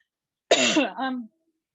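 A single close throat-clearing cough, rough and voiced, lasting under a second with a short second push, in an otherwise silent room.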